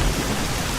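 Steady rain with a rumble of thunder in the S.T.A.L.K.E.R. video game: a dense, loud wash of rainfall over a deep low roll, continuous and close for a brief moment, with no voices.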